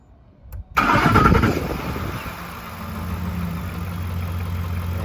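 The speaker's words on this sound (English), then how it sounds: "All right, crank it up, Gabe." A car engine cranks briefly, catches with a loud close roar, then drops back to a steady, rumbling idle.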